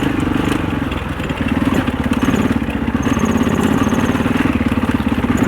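A 650cc four-stroke dirt bike engine on an enduro trail ride, a steady close rumbling drone that holds at an even level throughout, with no talking.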